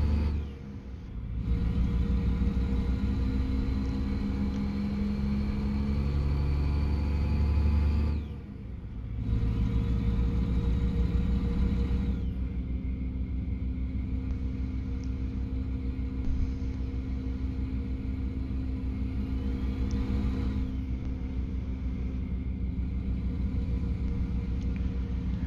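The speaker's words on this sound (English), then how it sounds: "Don't know what's up with this truck, but it seems to be having problems going up through the gears." A heavily loaded truck in American Truck Simulator labours through its gears with a deep, loud, continuous engine rumble. The revs drop out briefly at a couple of points, then the engine pulls again.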